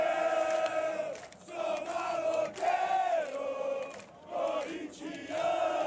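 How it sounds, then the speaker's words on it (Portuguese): A crowd of Corinthians football fans sings loudly and continuously in the visiting section of a packed stadium, massed voices rising and falling in a chant-like melody. "a torcida do Corinthians cantando aí sem parar"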